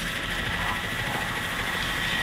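A helicopter comes in to land during a 1983 treasure hunt in Suffolk, its rotor and engine producing a loud, steady, broadband roar throughout the short clip with no other sounds standing out.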